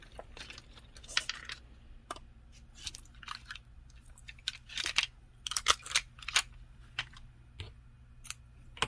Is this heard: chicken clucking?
no